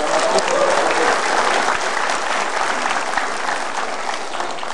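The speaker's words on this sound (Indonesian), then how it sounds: "Kita berikan tepuk tangan" A television studio audience breaks into sustained, dense applause for former Constitutional Court chief Mahfud MD, loud and steady throughout with no voices over it.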